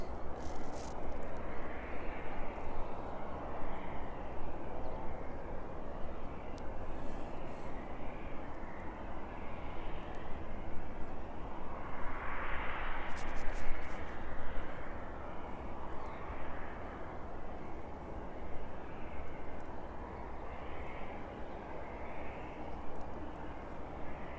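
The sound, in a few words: ATR turboprop aircraft moving at airport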